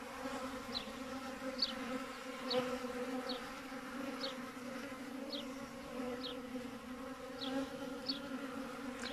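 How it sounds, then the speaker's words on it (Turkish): Close, steady buzzing of honeybees drawing syrup from a plastic feeding bag, a continuous droning hum with a few faint higher chirps repeating at regular intervals. "Poşetli beslemede arı poşetten nasıl alıyor şurubu"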